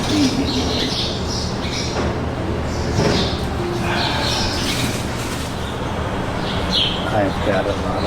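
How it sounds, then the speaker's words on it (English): Small birds chirp and squawk very close by outdoors on an overcast day, with repeated bright calls mixed into steady background noise and a person talking over them. "I've got a lot of bird friends here, really close to me."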